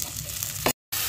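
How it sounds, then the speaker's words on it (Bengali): Chopped tomato frying in spiced oil with green peas in a karai, a close continuous sizzle that swells briefly before a short cut and then resumes. "এবারে দিয়ে দেব টমেটো কুচি।"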